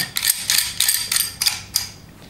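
A ring is turned by hand after being hooked with a notched tool, giving five or six quick bursts of ratcheting, scraping clicks with short pauses between them, close and clear.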